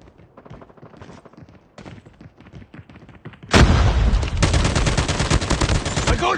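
Gunfire in the Call of Duty video game: scattered distant shots, then a sudden loud, sustained burst of rapid automatic fire with booming impacts.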